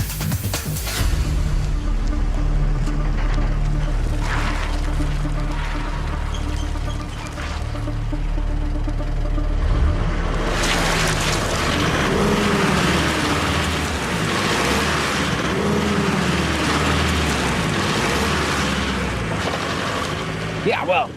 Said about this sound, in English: my wheels on my train just can't get enough grip to get me moving